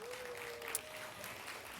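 A summit audience applauds the APAICS team, a soft, distant patter of clapping that stays faint and even, with a thin held tone and a brief click partway through.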